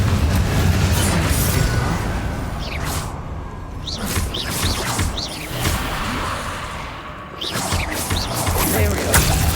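Repeated fiery spell blasts from the Confringo spell in a Hogwarts-style video game, dense booming bursts layered over constant game noise and effects, with several sharp sweeping zaps between the booms.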